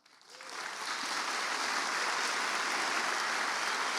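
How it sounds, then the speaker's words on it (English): Audience at a live storytelling evening in Des Moines breaking into applause, building quickly from a few claps to a dense, sustained wash of clapping that holds steady to the end. "let's give them all a round of applause."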